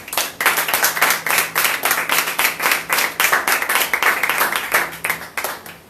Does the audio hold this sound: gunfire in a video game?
no